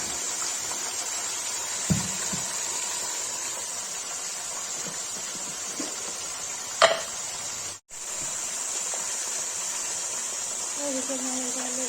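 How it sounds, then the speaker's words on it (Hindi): Mutton frying in a pot for a spicy mutton curry, a steady moderate sizzle throughout with a couple of stirring knocks and a brief break before the hiss resumes. "मटन फ्राई के लिए रख दिया है"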